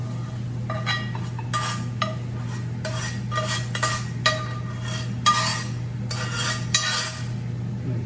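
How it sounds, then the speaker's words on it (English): Food being scooped out of a cast iron pan into a bowl for a stuffed mushroom, bacon and spinach meatloaf, heard as a series of light metallic scrapes and clinks of a utensil against the pan over a steady low hum, with no talk. "Get it out of the cast iron pan. Put it in a bowl for later."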